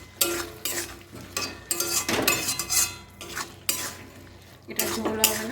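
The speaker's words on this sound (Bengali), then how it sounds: "এবার এটাকে কষিয়ে নিই" Potatoes for aloo dum being sautéed in a pan, with loud bursts of metal spoon scraping and clinking against the pan over a low sizzle, in an irregular rhythm.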